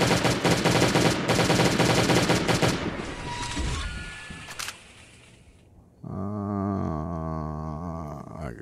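A dense volley of rapid gunfire shreds a turret in the survival game Last Day on Earth. It is loud and close for a few seconds, then thins out and gives way to a sustained tonal game sound.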